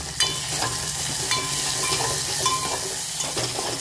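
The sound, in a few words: tempering with ginger, coriander, curry leaves sizzling in pan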